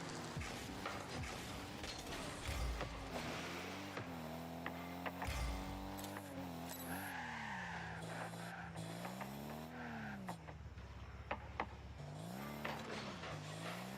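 A Porsche racing in a driving video game, its engine note rising and falling through gear changes while the tyres squeal and skid several times, continuous and close with no voices.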